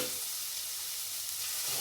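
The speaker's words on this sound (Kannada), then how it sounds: "ಒಂದು 2 ಇಂಚು ಚಕ್ಕೆ, ಒಂದು 4 ಲವಂಗ ಹಾಕಿದ್ದೀನಿ. ಇದು ಹುರ್ಕೊಳ್ಳೋಣ." Whole cinnamon stick and cloves dry-roasting and being stirred in a pan for a masala, giving a steady, close, dense sizzling hiss with no voices.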